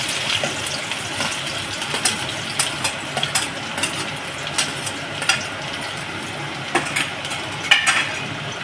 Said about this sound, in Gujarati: જુઓ હવે આપણું તેલ ગરમ થઈ ગયું છે રહી નાખીશું ડુંગળી નાખીશું